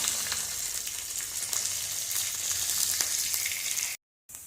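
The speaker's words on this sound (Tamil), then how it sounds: "அப்புறம் இந்த பச்சை மிளகாய், வெங்காயம் இதை போட்டு நல்லா வதக்கணும்." Sliced onions and green chilies fry in oil in a pan for a cauliflower fry, giving a steady crackling sizzle with occasional stirring clicks, close and unbroken until it cuts off near the end.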